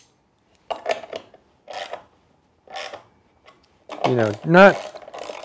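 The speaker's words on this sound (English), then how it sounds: "Then with a ratchet, I'm going to tighten them down." A ratchet with a 1/17 inch socket clicks in several short bursts as bolts are tightened while building a tape loom, loud and close, with brief speech near the end.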